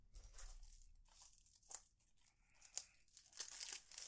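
Plastic shrink-wrap torn off a Need for Speed Heat PS4 game case, close and quiet, with several short ripping bursts and crinkling crackles spread across a few seconds, no voices.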